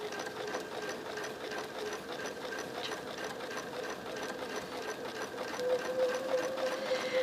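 A sewing machine quilting a feather design hums steadily and fairly softly throughout, a continuous even run as the fabric is guided around curves.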